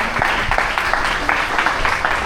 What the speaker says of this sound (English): A big round of applause for this.